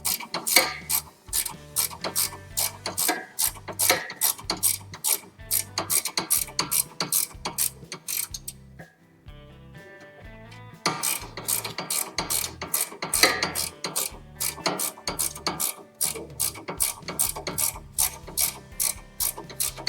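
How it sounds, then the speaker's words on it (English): Ratcheting wrench clicking steadily as it tightens a long stud on the steering and suspension of a Honda Pilot or Acura MDX, a fast, close run of repeated clicks with a brief pause midway. "That's why I love these ratcheting wrenches."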